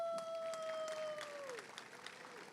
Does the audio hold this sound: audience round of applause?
yes